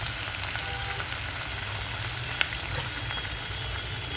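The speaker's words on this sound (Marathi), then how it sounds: "आता आपण ह्याच्यामध्ये हिंग टाकायचं आहे थोडंसं. आणि आता आपण कांदा हा सोडायचा आहे." Onion fries in hot oil with cumin and a pinch of asafoetida, a steady close hiss and crackle with one brief tap partway through, and no talking.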